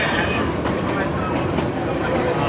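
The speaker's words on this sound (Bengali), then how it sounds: "ট্রেনটি এই মুহূর্তে বাঁক নিয়েছে দেখুন কত বড় একটি বাঁক নিয়েছে ট্রেন" The Sagarika Express train rumbles along the rails while rounding a large curve: a loud, continuous roar and rattle heard close up from on board.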